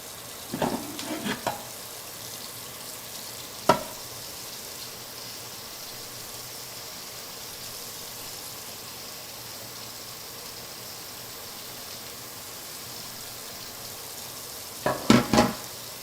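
Onions frying in a pan after some grease has been poured off, a steady soft broadband sizzle with a few louder clatters of stirring near the start, middle and end, no talking.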